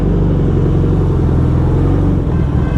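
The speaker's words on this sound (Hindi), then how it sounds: "भाई साहब पहाड़ों का जो ट्रैफिक होता है ना" Heavy engine rumble from a Hayabusa motorcycle riding through mountain road traffic, a loud close drone with steady low pulsing throughout.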